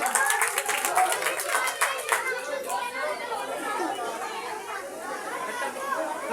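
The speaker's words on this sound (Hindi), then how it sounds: "अरमश के लिए जोरदार तालियां।" Clapping from a crowd of children and adults at a school program for a child, a quick burst of rhythmic claps early on that fades into lively chatter and children's voices.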